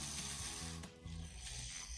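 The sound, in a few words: Lego Batman bubble mobile motor running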